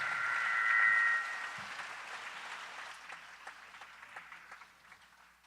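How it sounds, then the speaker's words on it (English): An audience at a Scholastic Art & Writing regional awards ceremony claps for the students. The applause starts moderately, with a brief tone near the start, then thins into scattered, fading claps. "give us one last round of applause for our wonderful students"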